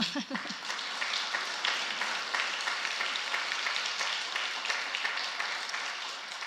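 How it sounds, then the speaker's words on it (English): Audience applause for a brave woman at a church talk on the Ecumenical Accompaniment Program in Palestine and Israel, a steady round of dense clapping holding at even loudness for several seconds without voices. "one round of applause for a very brave woman"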